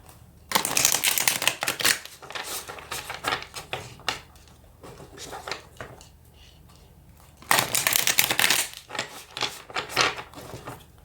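A deck of tarot cards being shuffled close by in two bursts of crisp riffling and rapid flicking, separated by quieter handling and a few light taps.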